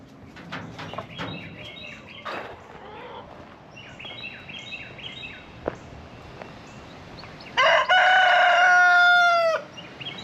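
Chickens cluck and call softly, then a rooster lets out one loud, close crow near the end.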